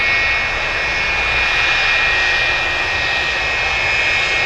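DC-10 jet airliner engines roaring at Anchorage airport, a loud steady broadband rumble with a high whine on top, sustained throughout with no speech.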